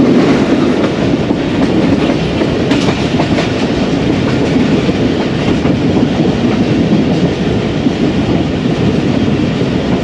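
The Karachi Express train runs on a railway track in flood-hit Sindh, a loud, constant rumble of wheels and carriages with steady clickety-clack over the rails, heard from on board without pause.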